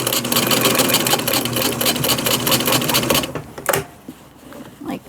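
A sewing machine runs a fast, steady zigzag stitch joining braided fabric strips, a close, loud buzzing chatter for about three seconds that stops, followed by a few soft handling clicks and rustles.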